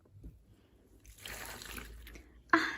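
Water is poured and splashed while a child washes toy baby dolls in a sink or basin, a broad running rush that builds in the middle and ends in a louder splash.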